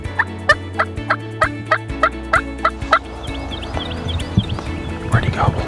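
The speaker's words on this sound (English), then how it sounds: "When you heard that first turkey gobble, what'd you think?" Wild turkey gobbling in the early morning, a run of rapid rattling gobble calls repeated several times in quick succession at moderate distance, followed by quieter rustling and faint distant calls, with people talking at times.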